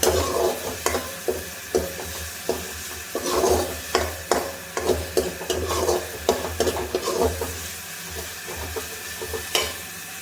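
Onions sautéing in a pan over high heat for a red creamy pasta sauce, a steady sizzle with repeated close scraping stirs of a spatula in an irregular rhythm.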